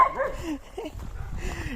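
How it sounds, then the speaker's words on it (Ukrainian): A happy, excited dog whines and yips up close in short, rising bursts, with a little quiet rustling between the calls. "Щаслива собака мене бачить."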